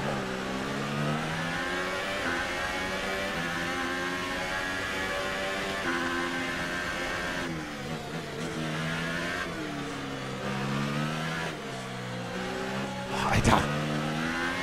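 Mercedes-engined Formula 1 cars in the F1 2018 video game at Monaco, high-pitched engines revving and shifting continuously ahead, rising and falling with gear changes under a game commentator's voice.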